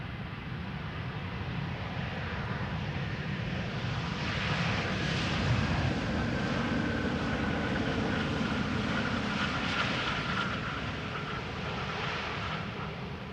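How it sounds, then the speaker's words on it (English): An Airbus A320neo airliner touching down at Amsterdam Schiphol, a strong, continuous engine roar with heavy low rumble and a hissing upper band that builds gently mid-way and then holds, with no speech. "Let's quickly have a look at the A320neo touching down over here."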